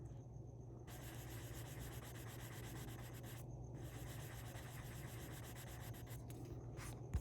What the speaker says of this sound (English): I'm not going to push down, I'm just going to be scuffing the surface right where these scratches are